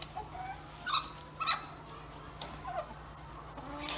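Chickens in battery cages cluck in short, scattered bursts over a steady hum, several birds calling near the listener with brief pauses between clucks.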